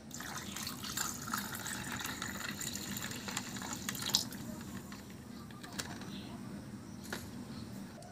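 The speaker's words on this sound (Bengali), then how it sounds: "এবার আমি দিয়ে দিচ্ছি সোডা ওয়াটার।" Soda water pouring into a glass over ice cubes for a homemade summer drink, a steady faint fizzing trickle with a few small clinks.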